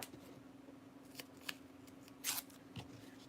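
Craft tape torn and snipped into small pieces for a beach-themed wall hanging, heard as a few sharp, close rips and clicks spaced over a quiet background hum.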